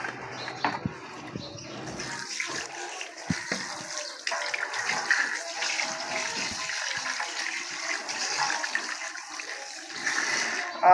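Water runs and splashes in a sink while chicken feet are rubbed and washed by hand, a steady nearby gush with intermittent knocks and clatters, no talk.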